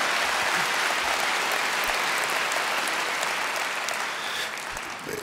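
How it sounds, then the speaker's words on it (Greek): Concert audience in a hall applauding, a dense, sustained wash of many hands clapping at once, steady and fairly loud, tapering off slightly toward the end. "Δεν το έχω συνηθίσει το να σε χειροκροτάνε όταν λες ότι είσαι χριστιανός."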